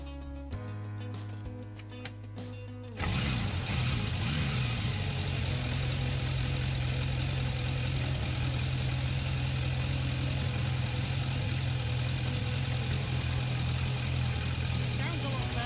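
A car engine with an SU carburettor starts after a few seconds and settles into a steady, loud idle with a constant low rumble that carries on to the end.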